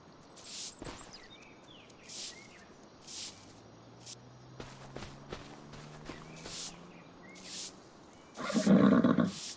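A horse whinnies in Farming Simulator 25 amid light hoof steps and brief clip-clop, short separate calls spread over several seconds, then a louder burst near the end.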